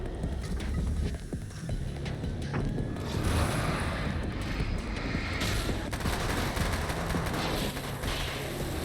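Grenade blasts and rapid gunfire from the Alan Wake American Nightmare video game land close and loud, with dense bursts of shots and booming impacts continuing throughout.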